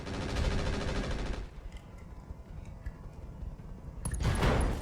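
Mech weapons firing in a video game, machine guns and medium pulse lasers: a loud dense rattle of automatic fire, a quieter stretch of scattered shots, then another loud burst at the end.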